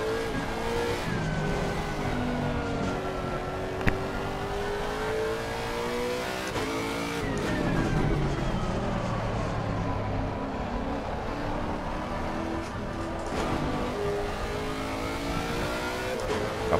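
A race car is driven in the video game Assetto Corsa Competizione, its engine revving and shifting with rising and falling whine through gear changes, steady and fairly loud, with no talk.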